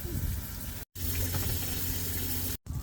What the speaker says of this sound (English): So all the water is just coming out the tank